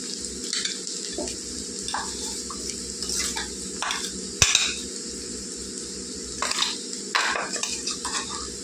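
Cluster beans with masala chilli powder fry in a pan under a steady sizzle, while a utensil scrapes and stirs in bursts of clatter at close range.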